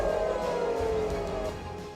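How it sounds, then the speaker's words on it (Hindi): Missile attack warning siren in central Israel, a sustained wailing tone that slowly falls in pitch, heard alone over a steady rumble. "मध्य इजराइल में कल पूरी रात मिसाइल हमले के सायरन बजते रहे।"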